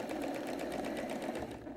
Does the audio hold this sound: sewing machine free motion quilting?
yes